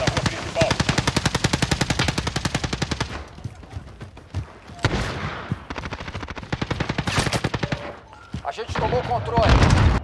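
Rapid bursts of PP-Bizon submachine gun fire in Call of Duty: Warzone, dense rattling volleys with short pauses between them, loud and close, with some talking mixed in.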